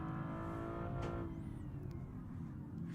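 A 1970s-style sports car with a six-cylinder engine in the racing game Build & Race strains uphill, its steady moderate engine drone and harmonic whine continuing under quiet game audio, with a brief swooping tone midway.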